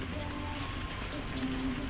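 Rain falling steadily during a typhoon, a dense patter on surfaces close by, continuous throughout with a low engine hum underneath.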